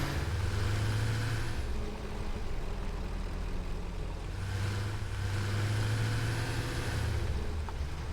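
A car engine in the factory-building game Satisfactory runs steadily with a low idling rumble that swells and eases slightly, close and alone without talk.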